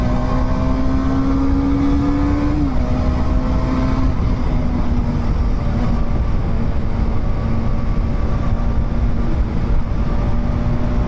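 A 2023 TVS Apache RR310 BS6 motorcycle accelerates hard in sports mode, its loud, close engine drone climbing steadily, then dropping briefly at a gear change before pulling on without pause; no talking.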